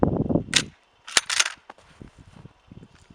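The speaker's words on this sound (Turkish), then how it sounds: "10 metrede kurşun ile kola şişelerine atış yapacağız" Slug fired from an Özkanlar FX015 shotgun at cola bottles 10 metres away: one sharp, loud report followed by a second burst of impact noise, with low rumble and faint clatter trailing off afterward.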